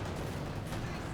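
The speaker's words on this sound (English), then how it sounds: "the coordinated barrage doesn't actually wipe out the" Coordinated artillery barrage in Company of Heroes 2, a continuous rumbling wall of distant explosions and gunfire, with no clear gap.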